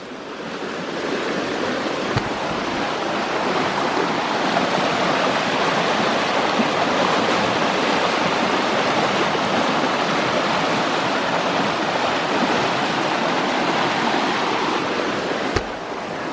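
A stream flows steadily nearby, a continuous loud rushing of water that lasts throughout, with some wind and no talking.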